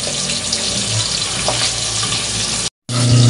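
Cooking oil fries and splatters in a covered pan, a loud, dense, continuous hiss that cuts out briefly near the end and then resumes.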